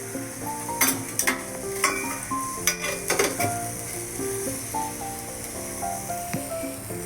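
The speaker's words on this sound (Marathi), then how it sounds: "चांगलं आपल्याला मिक्स करून घ्यायचं आहे." Turmeric, red masala and garam masala are stirred in a hot pan for Goan oyster gravy: a constant frying sizzle broken by repeated scraping and clinking strokes, with soft music underneath.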